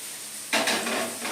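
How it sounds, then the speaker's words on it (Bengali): Cabbage cooking in a wok at home, a short burst of sizzling and scraping stirring breaking in after a quiet start, close and fairly loud with no talk. "এটা কি বাঁধাকপি রান্না করছো?"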